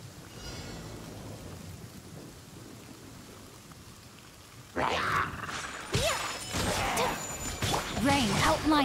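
Rain falls in the video game Genshin Impact, a soft steady patter that runs quietly at first before louder game effects and crashes cut in over it.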